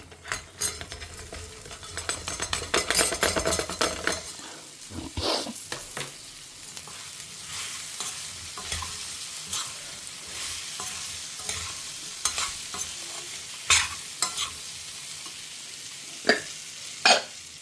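Okra (lady's finger) fries in a pan for a tamarind pachadi. A strong sizzle at the start settles into a quieter hiss, broken by repeated scrapes and clatters of a spoon stirring against the pan.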